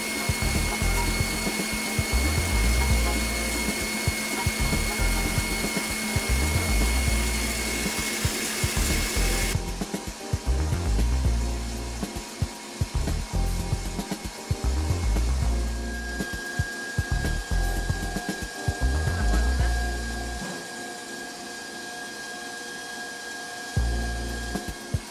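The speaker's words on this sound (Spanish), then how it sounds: "Las vamos a batir hasta que estén firmes." Electric mixer beating eggs to stiff peaks for torrejas batter, a loud steady motor whir with rhythmic low-end pulsing that runs continuously, shifting in tone partway through as the beaters work the mixture.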